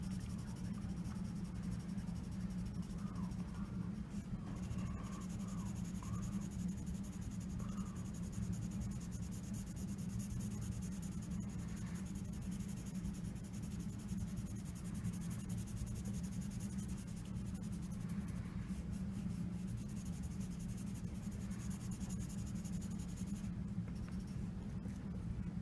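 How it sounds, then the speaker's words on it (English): Graphite pencil held on its side lightly shading paper while drawing Sven from Frozen, a soft continuous scratchy rasp that runs steadily throughout, close and quiet. "You hold your pencil on its side and go light enough."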